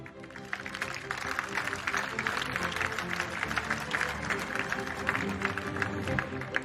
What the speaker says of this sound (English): Please give this initiative a round of applause